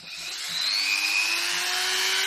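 A Dremel rotary tool spins up to cut a plastic project box, giving a close, steady whine that climbs in pitch over a couple of seconds and then holds.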